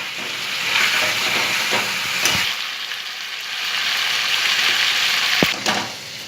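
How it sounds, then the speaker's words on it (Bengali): Lemon chicken with spices, fried onion and ginger paste being sautéed in a kadai: a steady close frying sizzle and hiss, broken by a few sharp spoon scrapes and taps against the pan. "এবার এটাকে কষাবো আমি।"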